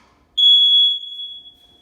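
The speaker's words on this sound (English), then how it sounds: "the thing that most bedrooms have are smoke alarms. And so we'll check that by hitting this button," A home smoke alarm goes off when its test button is pressed during a bedroom inspection, one loud, close, piercing electronic tone that starts abruptly and sounds steadily before fading off, with no talking.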